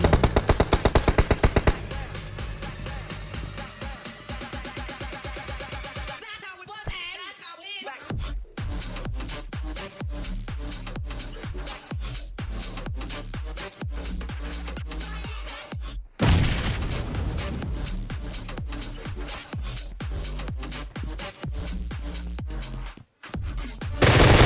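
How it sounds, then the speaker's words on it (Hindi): Rapid gunfire from the mobile battle royale game Battlegrounds Mobile India, with dense automatic bursts and sharp single shots crackling loudly and almost continuously, broken only by a few short gaps. "तो यहाँ से गोलियों की आवाज़ आती है"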